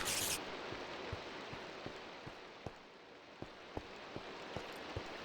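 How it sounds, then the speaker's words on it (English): Rain patters in a quiet underground mineshaft in a blocky survival game, a faint continuous hiss punctuated by soft, scattered drip-like taps at irregular intervals. "Where is the sound of rain coming from?"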